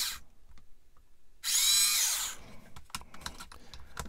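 A small power drill bores into a plastic part of a Bandai 1/144 Star Wars AT-AT model kit with one high, whining burst of about a second, surrounded by quiet handling clicks and taps.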